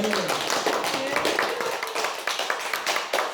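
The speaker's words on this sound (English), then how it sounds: "Awesome, give her a round of applause" A small group claps for Shelley, a woman recovering from injured hands, with scattered, uneven claps close by while voices talk and cheer over them.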